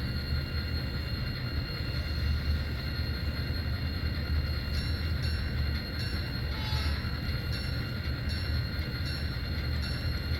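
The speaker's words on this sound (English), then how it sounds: "They're going to be going and taking these hoppers back to the other yard to continue to finish building up the train there." A freight train moves hopper cars through a rail yard in East St. Louis, giving a steady low rumble of rolling wagons with faint metallic squeals and clanks above it, continuous throughout.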